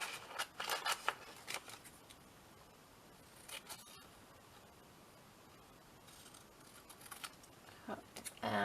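Scissors cutting out patchwork paper tags produce several quick crisp snips in close clusters near the start, more near the end, with quieter handling of paper in between.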